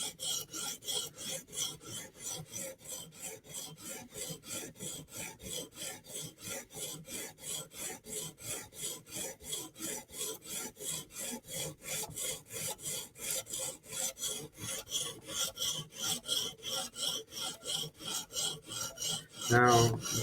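A chipped edge on a Giant Mouse knife being sharpened at 20 degrees, a steady rhythmic rasp of blade strokes across the stone, evenly repeated about two to three per second, close and clear with no talking.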